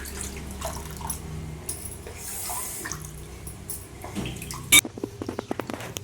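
Running tap water splashes and trickles with intermittent clatter as something is rinsed, ending in sharp knocks and drips.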